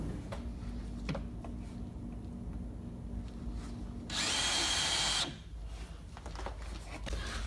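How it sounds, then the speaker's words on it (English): A power drill bores holes for mounting a door closer, one loud continuous burst of about a second lasting over a quiet room background. "Now that we've got our holes marked, we're going to drill them."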